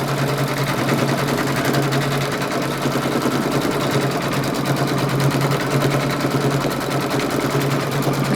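An embroidery machine sewing a satin stitch over applique runs with a loud, steady, fast mechanical chatter and a constant motor hum throughout, with no talking.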